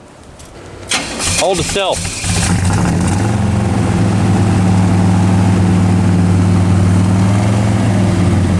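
A 1967 Pontiac GTO fed fuel from an IV bag cranks and fires up, then settles into a loud, steady, rumbling idle close by, with a person speaking over the start.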